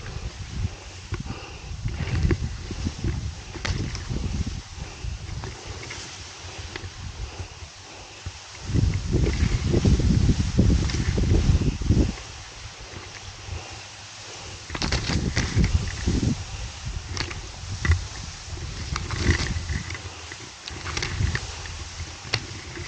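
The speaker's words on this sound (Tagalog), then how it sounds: "ang lakas ng hangin." Strong wind blows across an open rice paddy during farm work, a steady broadband rush with gusty swells and rustling that rise and fall over the whole stretch, no voices.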